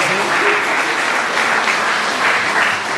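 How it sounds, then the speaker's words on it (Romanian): An audience at an autumn cultural evening at the Dumitru Tataru Cultural Centre breaks into loud, sustained applause, a dense and even wash of many hands clapping close by. "Foarte bine, foarte bine, aplauze"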